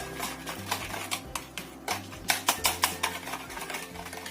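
Sugar being stirred into batter in a bowl until it dissolves, with rapid rhythmic scraping and clinking of the utensil that grows brisker toward the middle, close and fairly quiet, with no talking.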